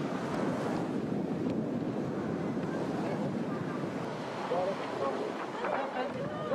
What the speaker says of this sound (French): Le vent est là